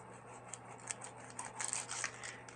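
Scissors snip through raw pork ribs while dividing racks into half racks in a home kitchen, giving several quick, close cutting crunches over a low steady hum.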